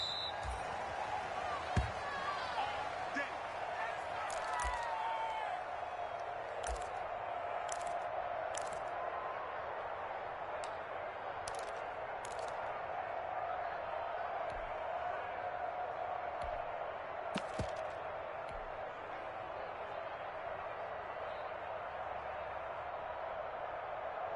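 A stadium crowd murmurs steadily at a Jaguars American football game, a broad distant roar with occasional sharp thumps and claps, under a commentator's talk.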